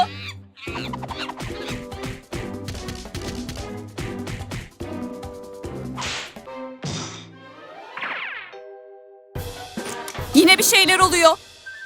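A cartoon character clucks and squawks like a chicken, mimicking a monkey's actions, amid bouncy music, playful sound effects and crashes, a busy, lively mix.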